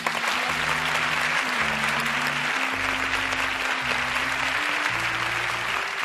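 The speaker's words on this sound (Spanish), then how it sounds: "José y Inma, que se lleven ustedes este fuerte aplauso del público" A studio audience at a televised Spanish game show gives sustained, loud applause throughout, with a low musical tone changing beneath the clapping.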